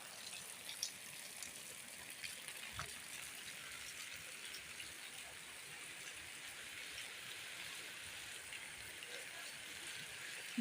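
Rainwater running steadily through a flooded colony street in Bhubaneswar during heavy rain, a constant broadband rushing wash that stays even and unbroken throughout, with a brief thud near the start.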